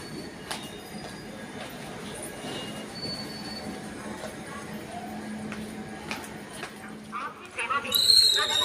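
A train rolls along at a railway station with rumbling wheels and occasional squeals and clanks at moderate distance, under ambient chatter and people talking, growing louder near the end.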